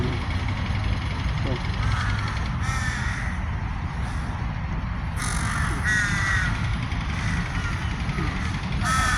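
Crows gathered in a large flock in trees, cawing loudly and continuously over a steady background hum, with someone talking throughout.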